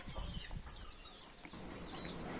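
A broody hen being set on eggs gives faint, soft clucks in short bursts in a quiet space, with no talking.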